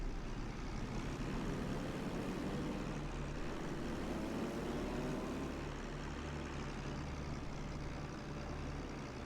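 In the naval battle game World of Warships, a fighter aircraft is airborne, its steady engine drone filling the scene as an unbroken, dense roar that holds level throughout without pauses.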